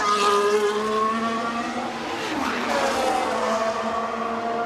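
Formula 1 car at the rain-soaked Australian Grand Prix, Fernando Alonso's machine, its high engine whine held steady then dipping and sweeping as it loses control, with a brief skid-like smear mid-way and continuous loud racing noise throughout.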